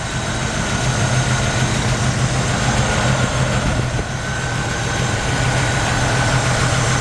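A 1950 Ford F1 truck engine idling smoothly with a 12-volt conversion and alternator, a steady close rumble with an even low throb throughout and no talk.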